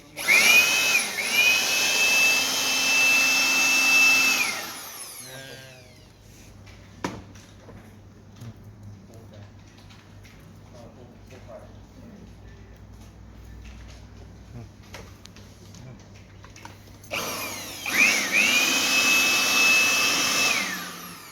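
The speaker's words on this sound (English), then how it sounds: "This is how we use the blowing and vacuum function of the Pro'sKit UMS-C002." A Pro'sKit UMS-C002 handheld blower and vacuum cleaner whines loudly for several seconds, falls to a quieter stretch with small handling clicks, then starts up again with the same high, steady motor whine.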